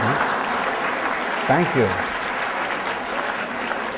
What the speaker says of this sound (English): I'd like some applause now for my 2 years of service.